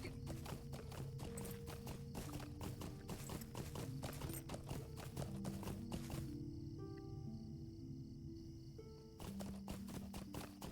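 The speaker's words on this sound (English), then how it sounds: "So we will just grab the horse to Hobbiton" Rapid, even horse hoofbeats clip-clop steadily at a gallop in the game The Lord of the Rings Online, close and clear, pausing briefly before resuming, with a low musical drone underneath.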